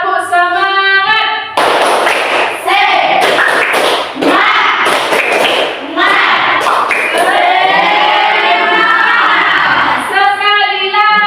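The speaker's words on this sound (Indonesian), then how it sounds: "Oke, tepuk semangat kita ya." A classroom of standing students performs a rhythmic spirit clap, sharp bursts of clapping and thumping in patterned beats alternating with loud sung or chanted group voices, all close and energetic.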